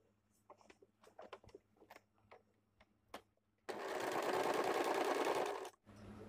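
A sewing machine stitching the shoulder seam of a blouse. It starts with scattered light clicks and handling noises, then runs as a loud, steady whirring burst for about two seconds before stopping.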